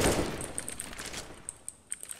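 Rapid bursts of video game gunfire in Counter-Strike on the Inferno map crackle at moderate distance, a quick volley followed by scattered individual shots, fairly faint overall.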